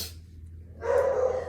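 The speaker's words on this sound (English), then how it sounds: "Sorry, my dogs." A single muffled dog bark or short yelp sounds indoors, fairly close, followed by a brief lingering tone over a low steady hum, with no talking.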